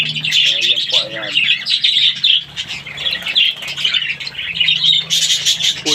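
Parakeets, including male birds near a breeding pair, chirp and squawk in a busy, continuous chatter of sharp calls close by, with a low hum underneath and no clear talk.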